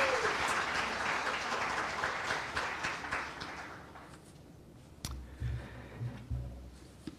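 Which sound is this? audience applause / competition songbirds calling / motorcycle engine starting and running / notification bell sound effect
audience applause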